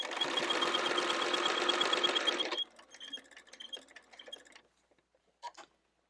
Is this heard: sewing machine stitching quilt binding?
yes